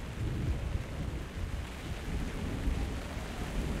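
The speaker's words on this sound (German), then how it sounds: "Da regnet es." Constant heavy rain and low rumbling thunder fill a Minecraft Story Mode scene. The wash of noise is dense and steady, with deep rolls underneath and no voices.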